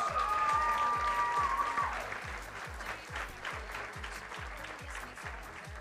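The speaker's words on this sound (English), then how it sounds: "Give a round of applause." Audience applause at a Miss Earth United States pageant as division rankings are announced, steady dense clapping from a crowd that starts full and eases slightly, with a faint tonal voice or music line early on.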